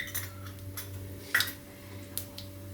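Mustard seeds splutter in hot coconut oil in a pan, a few sharp scattered pops over a low steady background hum, close and moderately quiet.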